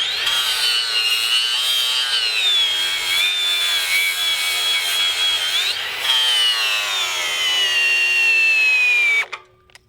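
Makita 40V XGT brushless 5-inch variable-speed angle grinder with a paddle switch cutting under load, a loud, continuous high-pitched whine that shifts pitch slightly as it bites, then cuts off abruptly near the end.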